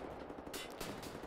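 Rapid bursts of gunfire from the shooter Wolfenstein: The New Order, several quick sharp cracks spread through the short stretch at a fairly quiet level.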